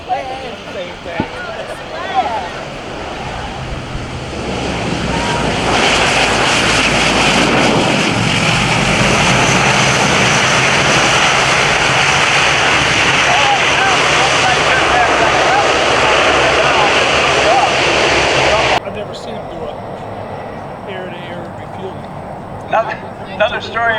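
Airplane engines flying over at the Cleveland National Air Show, a loud broad roar that swells and holds for several seconds before cutting off, with a voice talking over the start.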